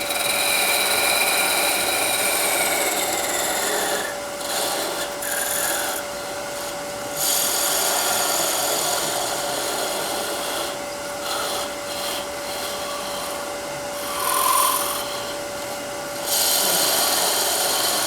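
A small rotary tool from a dentist-style drill set grinds a Christmas ornament, giving a high, rasping whir that starts and stops in bursts, close and fairly loud, with no talk.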